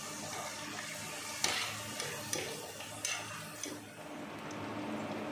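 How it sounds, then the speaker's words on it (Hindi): Carrots fry quietly in a pan for a halwai-style mixed vegetable dish, a soft, even sizzle under occasional light clinks and scrapes of stirring. "ये हमारी कैरेट भी फ्राई हो गई है"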